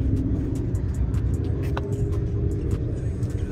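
The twin-turbo engine of a JB4-tuned BMW M4 Competition xDrive drones loudly and steadily from inside the car, a constant low rumble with no clear revving.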